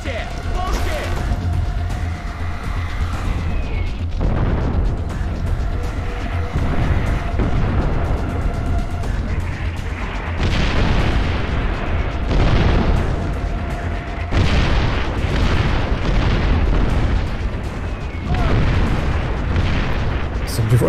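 Repeated deep booms and blasts of cannon artillery fire in Far Cry 4, arriving in heavy bursts, with a voice shouting in Russian to take cover over the barrage.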